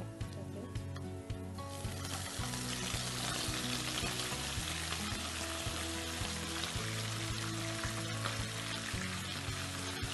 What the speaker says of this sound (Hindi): अब हम इसके अंदर चिकन डाल देंगे।